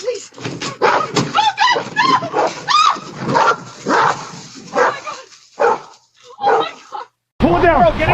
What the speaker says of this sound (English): A loyal dog jumps into action to save its owner from danger.